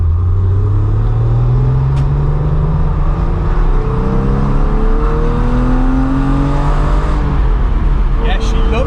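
A standard Porsche 993 C4 engine revving loudly up close, its rising and falling pitch sweeping through repeated climbs, with voices talking underneath.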